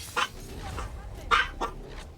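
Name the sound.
dog barking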